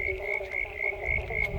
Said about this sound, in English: it sounds like we've got 2 million frogs nowadays